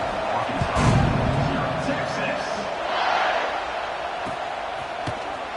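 A stadium crowd buzzes in a College Football 26 game after a score, a dense roar that swells and eases, with a commentator talking over it.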